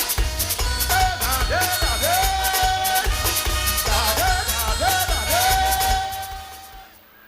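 Outdoor crowd at a carnival opening celebration cheering and whooping for a steel band, loud and sustained with rising shouts over a dense din, fading out over the last second.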